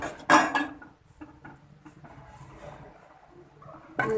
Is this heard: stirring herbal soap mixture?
yes